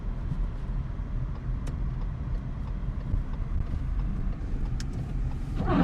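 A Honda car climbs a snowy uphill road during a Portland snowstorm, its engine a steady low rumble with continuous road and tire noise, close and unbroken throughout, with a slight rise near the end.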